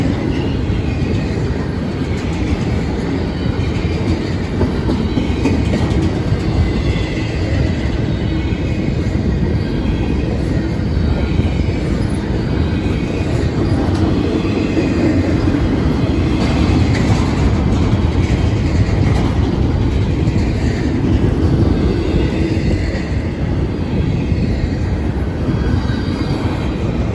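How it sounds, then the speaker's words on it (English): A train rolls past on railway tracks near the Iron Triangle, a loud continuous rumble of wheels and wagons with steady rattling and faint squeal, sustained and close for nearly half a minute with no talk. "I'm kind of figuring what this train is"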